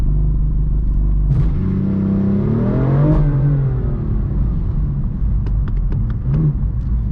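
A BMW M4 launches from 3,000 RPM, its engine holding a loud steady rumble before climbing in a rising rev sweep, then dropping back as the car pulls away, with sharp clicks near the end.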